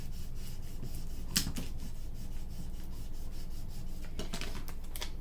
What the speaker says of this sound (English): flip it over and then just run the scraper over it again just to make sure it's adhered really well